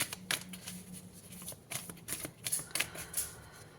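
Tarot cards are shuffled by hand, a quick close riffling and flicking of card stock in several short bursts, quiet and without talk.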